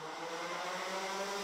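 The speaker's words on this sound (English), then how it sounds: "Revs rise, lights are on." Junior Max racing kart engines rev together at the start of a pre-final, a steady, buzzing multi-engine drone that holds at a constant pitch, moderately loud and without voices.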